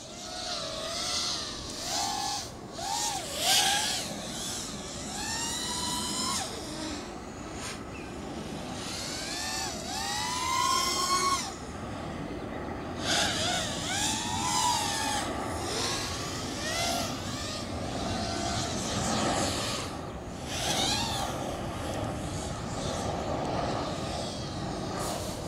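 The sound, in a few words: FPV drone with Racerstar SPROG-X 2205 motors flying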